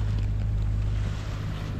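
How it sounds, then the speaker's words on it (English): A sailboat motoring under engine power in thick fog on the way to Nazaré gives a steady, close low engine drone with wind rushing across the microphone throughout. "We've been motoring now for I think about 5 hours."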